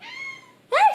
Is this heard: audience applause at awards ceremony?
no